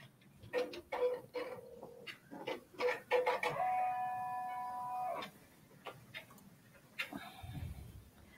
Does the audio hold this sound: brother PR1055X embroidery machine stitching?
yes